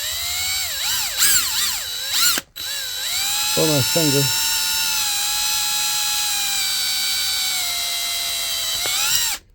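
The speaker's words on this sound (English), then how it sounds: "I'm going to have to drill out these holes so I can get these on here" Power drill whirring steadily while boring out holes in a 1973 Chevrolet crew cab squarebody truck bed, loud and close with a brief stop and restart; someone speaks briefly over it.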